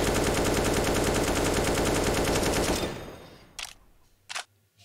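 Sustained automatic gunfire from a weapon in Battlefield 4 rattles in a fast, loud, even burst for nearly three seconds, then cuts off, leaving a decaying echo and two short mechanical clacks.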